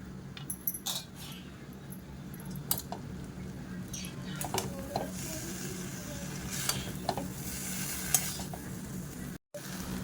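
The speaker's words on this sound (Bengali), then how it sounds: "দিয়ে দু মিনিট আমি ভালো করে এর সঙ্গে মিক্স করে ভেজে নেবো" Rice with egg and soybean chunks sizzles as it stir-fries in a pan while a spatula scrapes and clinks against metal in irregular strokes, close up, with a short cut near the end.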